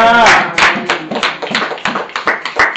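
A church congregation claps in a quick series of sharp, close hand claps, starting out tangled with a voice and settling into an irregular burst of applause.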